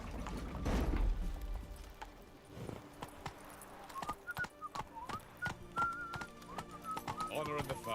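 A horse gallops in the video game Witcher 3: Wild Hunt, its hoofbeats thudding along steadily beneath game music with whistle-like tones and voices talking.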